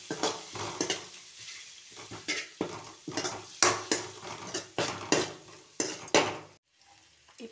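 Garlic paste and turmeric stirred in a hot, sizzling pan, rhythmic scraping strokes over a bed of frying hiss, close and fairly loud, stopping abruptly near the end, with no one talking.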